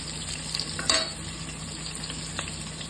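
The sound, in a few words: onions sautéing in a pan for mutton kulambu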